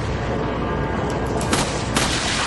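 Gunfire in the Resident Evil 4 video game, with dense, noisy rattling shots that include a couple of sharper bursts near the end, mixed at a moderate level.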